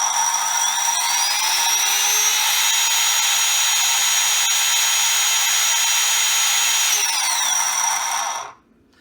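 A repaired Milwaukee M18 wet/dry vacuum motor runs with a loud, steady high whine that holds evenly for several seconds, then winds down and cuts out at the end, with no talk.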